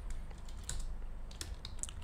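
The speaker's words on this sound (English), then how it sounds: "I'm clicking Control Space to get the auto corrector to kick in" A computer keyboard clatters with quick, light key presses, including Control and Space shortcut strokes, in a brief irregular burst of close, soft clicks with no voices over them.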